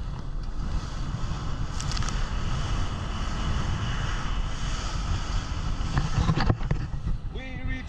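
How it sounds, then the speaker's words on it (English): A seaplane lands on water on a trip from St. Croix toward Buck Island, with a steady, close engine roar and rushing wind filling the whole stretch. "The seaplane land, my son."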